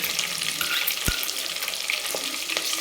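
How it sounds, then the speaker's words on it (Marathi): Chopped green chillies frying in hot oil in a pan, giving a brief steady sizzle with a single sharp clack of a spoon partway through, no voices. "हिरव्या मिरच्या घेतल्यात आणि त्याचे तुकडे करून घेतलेले आहेत ते टाकून घेऊ"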